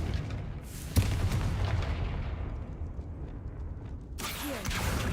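A Confringo blasting spell goes off in Hogwarts Legacy: one sharp blast lands early, then a dense rumbling roar lingers and swells again near the end, with no voices.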